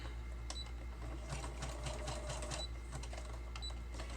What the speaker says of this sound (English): then I'm going to sew a little bit more of that down here.